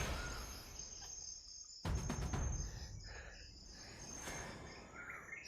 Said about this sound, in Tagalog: Yan po, yung huni ng langgam. Nandiyan pa rin.